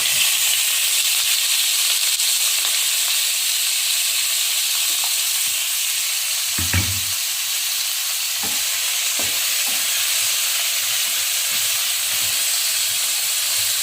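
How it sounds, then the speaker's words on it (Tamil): Vegetables tipped into hot oil in a pan fry with a steady, broad sizzle that runs the whole time, with a few sharper crackles and a brief thump near the middle, and no talking. "இப்போ பார்த்தீங்கன்னா எண்ணெய் வந்து நல்லாவே காஞ்சிருச்சு இப்போ நம்ம எடுத்து வச்சுருக்க இந்த காயை வந்து அதை கொட்டிடலாம்"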